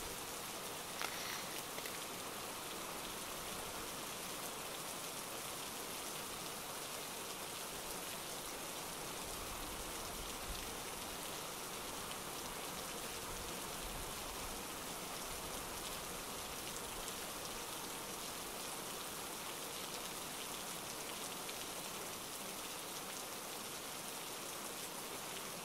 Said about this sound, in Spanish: despertamos con una lluvia que no parecía dispuesta a darnos tregua.